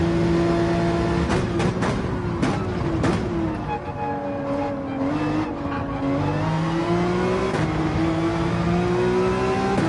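Race car engines in Gran Turismo 7 at Fuji, several cars roaring continuously with rising and falling revs as they accelerate and shift, loud and steady throughout with brief tire noise.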